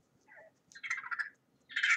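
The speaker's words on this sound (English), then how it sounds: "This is a raccoon." Raccoon vocalizations played back from a phone assistant: a few short chittering, trilling squeals in bursts with a louder final burst, no talk over them.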